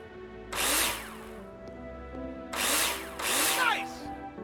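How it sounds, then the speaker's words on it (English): Cordless drill driving screws into plasterboard in the Builder Simulator video game, three short whirring bursts separated by pauses, close and loud over a quiet background. "Take your drill out and screw them in."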